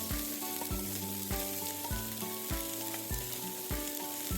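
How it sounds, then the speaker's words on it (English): Onion and other vegetables for egg fried rice fry in a pan with a steady close sizzle, broken by repeated knocks of a spatula or pan roughly every half second to second. "at this time we are just going to fry the veggies, starting with the onion."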